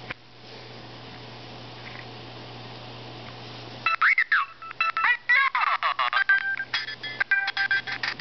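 Choppy Mario game audio from a Nintendo 64 emulator running on a third-generation iPod touch, with a steady hum for four seconds, then stuttering, broken bursts of chirpy electronic sound and tones cutting in and out.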